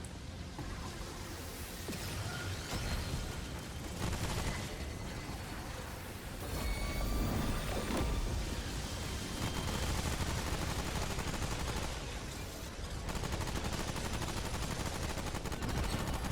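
Dense gunfire from the video game Remnant 2, during the N'Erud area: rapid, sustained shots layered with loud game effects in a continuous barrage with no pauses.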